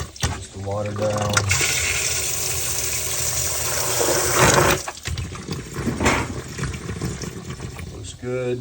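Water rushes steadily as a sump pump pushes it down, a loud broad wash lasting about four seconds before fading into gurgles, with someone talking before and after the flow.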